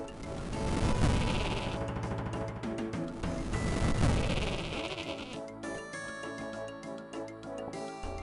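A ram bleats in a video game, loud repeated bleats over a dense game soundscape of clashing, crashing effects and music, with no talk.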